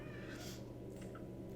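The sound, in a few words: cat meowing in the video game Danganronpa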